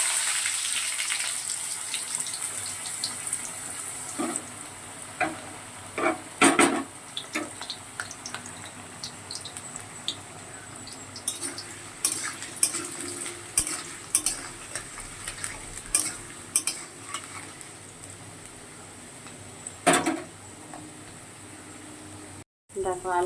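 Potatoes frying in hot oil in a pan, a steady low sizzle throughout with frequent scraping and clinking of a spatula against the pan, and a voice talking over it at times.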